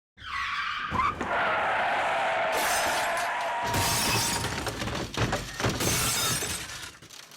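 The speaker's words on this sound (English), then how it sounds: "I crashed into the front of this container." A car skids under hard braking and then smashes into a large container, with loud glass shattering and metal impact noise filling several seconds. The crash is loud and close, and no one speaks.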